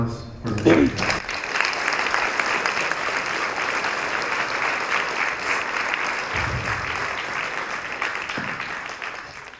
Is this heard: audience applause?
yes